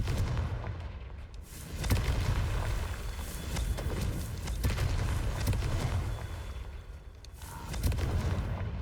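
Confringo blasting spell explosions in the video game Hogwarts Legacy, repeated booming blasts and rumbling impacts at irregular intervals, loud and dense with continuous low crackle between.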